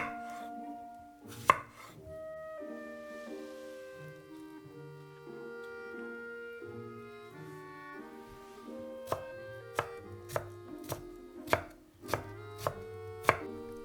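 A knife chops half a cucumber into chunks on a cutting board: crisp, evenly spaced strikes, sparse at first and then a quicker run of about eight chops near the end, heard over soft background music.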